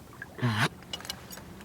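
A goose call blown backwards gives one short, nasal reverse honk up close, followed by faint clicks and breathy noises.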